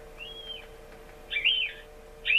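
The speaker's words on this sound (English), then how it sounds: "Let's just do a rodent sound. This one here is let's do stinky rat for you." An electronic game caller plays a stinky rat rodent call: three short, high squeaky chirps, with the later ones louder and more ragged, over a faint steady hum.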